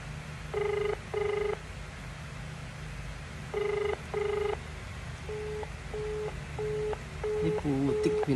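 Mobile phone placing a call: a few dialing tones, then repeated ringback tones in even paired bursts over a steady background hum, with no talking.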